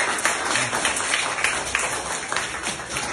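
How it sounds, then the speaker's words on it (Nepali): A small gathering claps together in steady applause after a student is congratulated, a dense, even patter of many hands that goes on throughout. "सबैजनाले ताली बजाऊ।"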